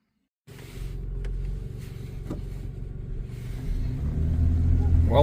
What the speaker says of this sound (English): I'm driving the Tacoma without any rear drive shaft right now to see if I got rid of the vibration